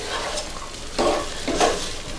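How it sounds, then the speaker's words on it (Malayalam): Grated coconut stirred into a dry-frying Kerala chicken roast in a pan, with a steady sizzle broken by two scraping stirs near the end, close and without talk. "എന്നിട്ട് നന്നായി ഇളക്കുക."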